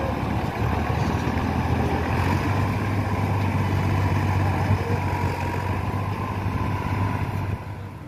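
The diesel engine of a freshly repaired tractor runs at a steady idle, close and loud, with an even rumble throughout and no talking.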